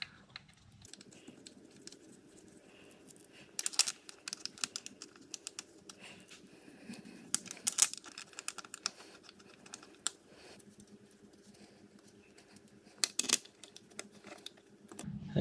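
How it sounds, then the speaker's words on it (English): Small nuts and bolts on a Toyota Hilux N70 D-4D tappet cover are set in place, giving faint scattered metallic clicks and taps with quiet pauses between. "put these bolts and nuts that go back into the tappet cover back in place"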